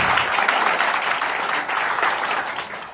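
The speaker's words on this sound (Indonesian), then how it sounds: "Kasih tepuk tangan dulu" Audience at a business presentation breaking into applause, a thick burst of clapping that stays loud and close before easing slightly near the end.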